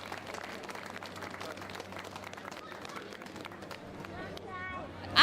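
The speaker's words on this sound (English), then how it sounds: "let's hear a big round of applause and a big cheer for Mr. Paddy Grace." Outdoor crowd at the 2018 Cavan Town St Patrick's Day parade claps, fairly faint and distant, with a constant low hum and babble beneath, swelling slightly toward the end.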